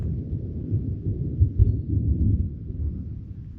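Low, rolling thunder rumbles steadily at a distance, with one slightly sharper crack partway through, heard outdoors on a warm, breezy day with no voices.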